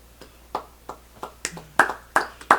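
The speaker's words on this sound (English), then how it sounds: "it deserves one final clap" Sharp hand claps in a slow, steady rhythm, about eight in all, getting a little louder toward the end, at E3 2015.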